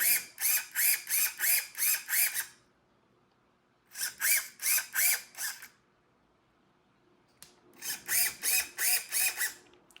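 An RC car servo on a freshly finished Kyosho Turbo Scorpion buggy build gives three bursts of rapid, ratcheting whirs, each about two seconds long with quiet pauses between. It sounds close, with no voices.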